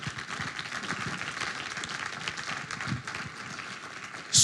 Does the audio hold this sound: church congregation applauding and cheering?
yes